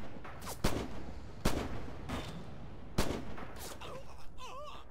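Gunfire in the Red Orchestra 2 battle for the Druzhina bridges, three sharp shots standing out at intervals over a dense rumble of distant combat, with a voice speaking near the end.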